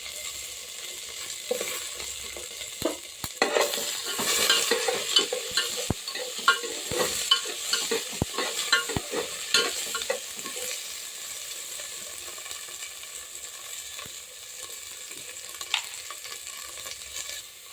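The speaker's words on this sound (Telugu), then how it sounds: "బెండకాయలు కొంచెం ఫ్రై చేద్దాం." Okra for sambar fries in a pan, hissing and sizzling steadily while a utensil stirs and scrapes it with irregular clicks. The stirring is busiest early on, then the sizzle continues more quietly with no voices.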